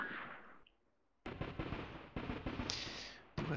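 Machine gun unit firing in a war strategy game set in the Pacific, with a rapid burst of sharp gunfire after a brief quiet gap, loud and close, followed by continuing shots.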